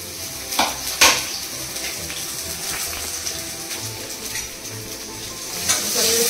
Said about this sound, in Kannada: ಓಕೆ, ಇವಾಗ ನಾನು ಆನಿಯನ್ ಅನ್ನು ಹಾಕ್ತಾ ಇದ್ದೇನೆ.